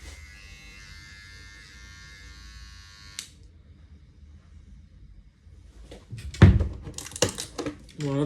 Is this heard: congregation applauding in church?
no